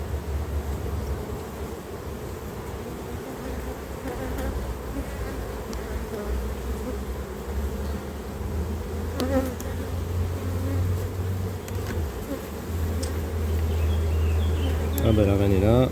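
Honeybees buzz from an open hive during a beekeeper's inspection for the queen and emerging capped brood: a steady, dense drone held close throughout, swelling slightly louder near the end.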